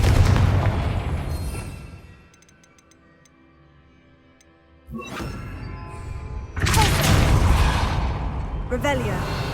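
Confringo fire spell going off in Hogwarts Legacy inside a dark, precarious ruin, a loud burst after a quiet stretch of faint ticking, then a second forceful blast with crumbling debris.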